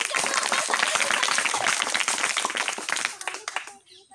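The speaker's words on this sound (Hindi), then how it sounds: "जोरदार तालियां हो जाए।" Students and guests at a Children's Day event at a coaching institute in Nalanda, India, clap vigorously with sharp, close hand claps that taper off and stop near the end.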